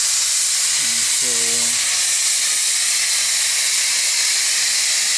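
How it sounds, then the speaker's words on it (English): A New Zealand steam boiler steadily releases steam as it nears its set pressure, a loud continuous hiss filling the whole clip, with a brief tonal whistle or hum early on. "it's just slowly releasing steam because it's getting up to where it's set at"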